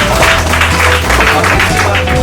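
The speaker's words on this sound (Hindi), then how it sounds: "अब मीटिंग का समापन करते हैं हम, और जोरदार तालियों से सभी का स्वागत।" Applause welcoming everyone at the close of a grand opening gathering, a steady wash of many hands clapping that fills the whole stretch at an even, fairly loud level.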